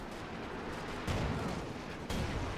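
An artillery barrage in the video game Company of Heroes 2 rumbles as a continuous battle din, broken by two heavy, booming impacts about a second apart.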